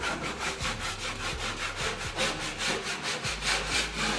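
Scraper dragged over drywall joint compound as it sets, producing rapid, rhythmic rasping strokes, close and steady, like sawing or rubbing, with no talk.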